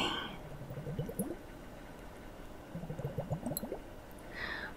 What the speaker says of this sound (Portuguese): Som de água é muito bom.